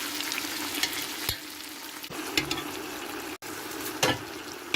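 Oxtail pieces dropped into a pan of frying vegetables for a Córdoba-style red wine stew, a loud steady sizzle with a few sharp bursts and clacks as the pieces land and are stirred.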